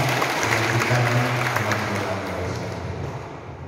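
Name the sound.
applause for the first speaker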